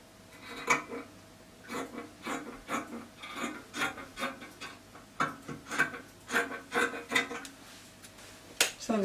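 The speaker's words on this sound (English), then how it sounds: "I will cut out the back neckline. Then I will cut the shoulder slant." Scissors cut through fabric along the back neckline of an open kaftan dress (abaya), a string of soft, close rasping snips and rubs repeating in an uneven rhythm with no voice over them.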